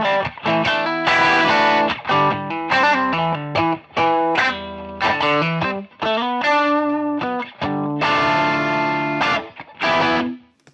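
An electric guitar plays through a JHS Double Barrel V3 overdrive pedal, with crunchy, bright distorted chords and single-note phrases in short bursts and pauses, loud and close with no talk.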